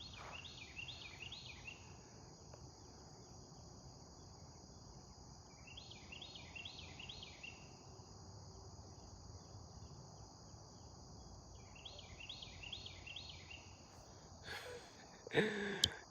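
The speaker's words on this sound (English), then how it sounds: "I'm listening to this bird right here" Bird song outdoors in the early morning: repeated bursts of high chirping phrases at a distance, returning about every five seconds over a soft steady insect and ambient hum, with a brief rustle near the end.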